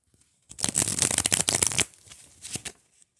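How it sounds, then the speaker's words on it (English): A rapid riffle of tarot cards being shuffled, a dense burst of papery flutter lasting over a second, followed by a softer shuffle shortly after. "Now one more shuffle."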